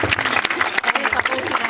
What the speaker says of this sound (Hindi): कविता समाप्त हो गई, तालियां बजाइए।